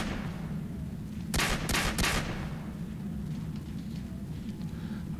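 Gunfire in Call of Duty 4: Modern Warfare, a quick burst of three close shots over a steady background rumble, followed by fainter distant shots.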